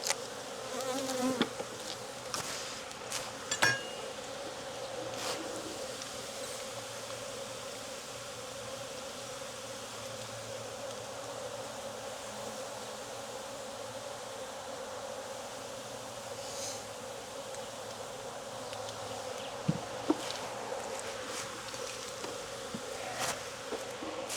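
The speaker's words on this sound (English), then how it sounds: "There's a lot of bees in here, so it's very easy for me to miss her" Honey bees in an open hive in Jacksonville, Florida hum in a dense, continuous drone with scattered louder passes of single bees close by, and no voices.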